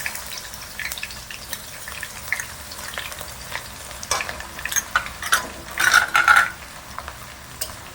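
Crushed garlic frying in hot oil in a pan for a Bengali mutton curry, a steady close sizzle with stirring scrapes that swell into louder crackling bursts near the end, with no talking.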